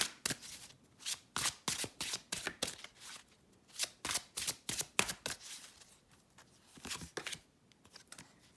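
A tarot card deck is shuffled by hand in a quick series of crisp, papery riffles and bursts with short pauses between them, close and alone with no talk.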